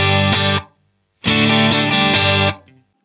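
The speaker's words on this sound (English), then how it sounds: "If you ever wondered what your guitar in a phone box would sound like." Electric guitar played through a red phone box reverb on a Poly Effects Beebo pedal, two loud sustained chords with a short pause between, ringing with a brief small-room tail.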